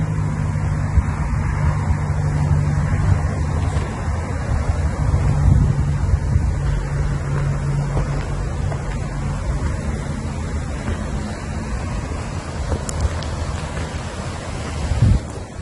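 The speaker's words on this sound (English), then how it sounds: "The waterfalls." Waterfall at Southford Falls State Park in Southbury, Connecticut, a steady broadband rushing roar of falling water, close and continuous, with some wind buffeting on the microphone.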